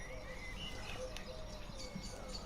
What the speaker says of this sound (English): all the birds going on in the background and stuff, it makes it pretty realistic